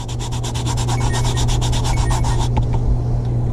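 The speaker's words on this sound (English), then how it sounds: "I want to burnish this so that I get my glitter nice and attached" A tool rubbing back and forth to burnish glitter onto paper when making glimmer paper, giving close, rapid rhythmic scraping strokes that end in a few lighter taps.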